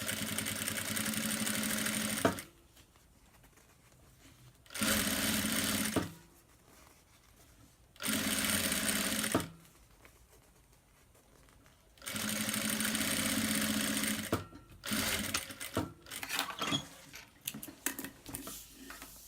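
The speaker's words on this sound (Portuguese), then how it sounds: "Com o forro pro outro lado, eu vou iniciar a minha costura, meu pesponto com retrocesso" A sewing machine stitches the lining of a round bag in four steady bursts of fast, even mechanical whirring separated by quiet pauses, then a few short stuttering runs at the end, close up and with no talking.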